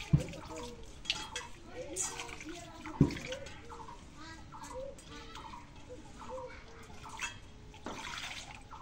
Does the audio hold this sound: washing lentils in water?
yes